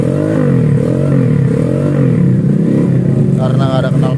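A modified Kawasaki Kaze motorcycle engine, built in road-race style and running with no exhaust fitted, idles loudly and roughly up close with a continuous throbbing drone, after being started for the first time.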